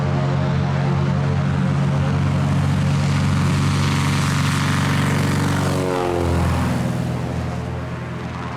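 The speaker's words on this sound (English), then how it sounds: "same narrow and short gravel bar I show the 170 taking off" A Cessna 170 light airplane takes off from a narrow, short gravel bar, its propeller engine droning loud and close at full power, then shifting in pitch and fading a little as it passes and climbs away.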